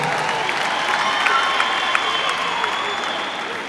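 A concert audience at a traditional Rwandan gakondo show breaks into dense, sustained applause, close and lively throughout, with a bit of crowd murmur mixed in.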